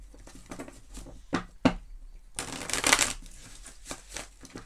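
Tarot deck being shuffled by hand: a run of crisp riffling and slapping card bursts, with a longer dense flurry in the middle, close and fairly loud with no voices.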